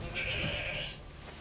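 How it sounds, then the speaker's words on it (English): A sheep bleats once in The Elder Scrolls IV: Oblivion, a drawn-out wavering cry lasting about a second, clear and fairly close over low in-game background noise. "Also, I think you're fighting a sheep or something there."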